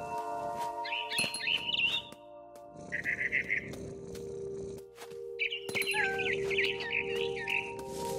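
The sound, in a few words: scared barn swallow chirping, from the video game What Remains of Edith Finch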